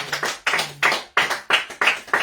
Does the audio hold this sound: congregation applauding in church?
yes